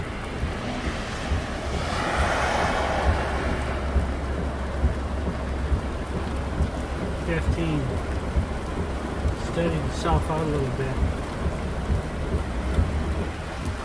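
Thunderstorm in Southern Alberta: steady heavy rain roars throughout with a low rumble underneath, and someone speaks briefly partway through.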